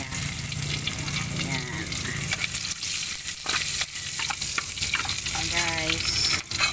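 Ingredients for sofas sizzle in a hot pan and are stirred with scraping and crackling, a steady frying hiss running under a voice.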